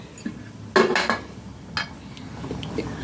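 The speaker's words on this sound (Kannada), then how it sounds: "ಈಗ ಒಂದು ಸತಿ ಮಿಕ್ಸ್ ಕೊಟ್ಟು ಕುಕ್ಕರ್ ಲಿಡ್ಡನ್ನು ಕ್ಲೋಸ್ ಮಾಡೋಣ" Vegetable pulao being mixed in a pressure cooker, with a loud metallic clatter of a spoon against the pot near the start and a few lighter knocks after, with no talk.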